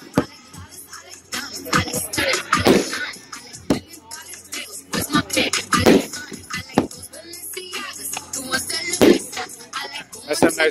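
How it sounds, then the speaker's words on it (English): Colour-changing brocade bursts from an Alien 500-gram firework cake crackle and pop irregularly for several seconds, with a steady scatter of sharp bangs of varying loudness. "That's a nice brocade right there."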